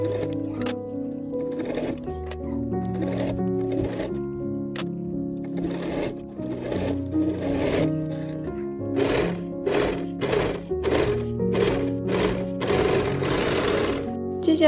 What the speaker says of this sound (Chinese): 把侧缝线缝起来。